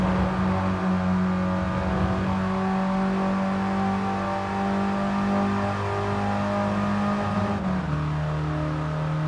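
A Mini Cooper's engine accelerates in Gran Turismo Sport, a sustained close whine climbing steadily in pitch, then dropping briefly at a gear change and rising again; no talking.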